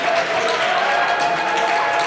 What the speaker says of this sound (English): Give a round of applause to our officials